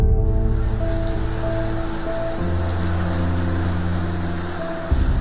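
Steady rain falling during a ruqyah healing session: a continuous, fairly loud hiss of drops hitting a surface, with sustained humming tones layered over it.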